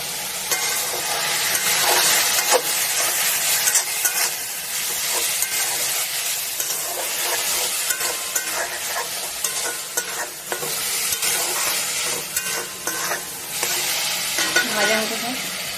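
Mutton keema fries with ginger-garlic paste and salt, a loud continuous sizzle broken by frequent stirring scrapes and spatula strokes, close up and steady throughout.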